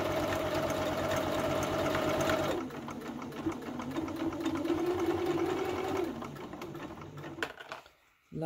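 A sewing machine stitches two pieces of fabric for a Jasmine wrap top, running steadily and close up with a slight change in pitch partway, then slowing and stopping near the end.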